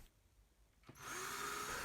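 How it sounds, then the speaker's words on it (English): After a quiet moment a power drill spins up and drills into a truck cap hinge, rising into a steady, loud whirring whine that holds close and continuous. "I'm actually drilling the holes straight down."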